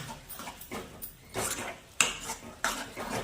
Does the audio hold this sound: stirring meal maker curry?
yes